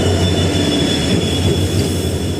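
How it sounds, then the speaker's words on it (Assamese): A passenger train rolls into a station at Bongaigaon with a loud, continuous rumble and steady metallic hum, close and unbroken. No one speaks over it. "ফাইনেলি গাইজ সেইখন ট্ৰেইন আহি পালেহি"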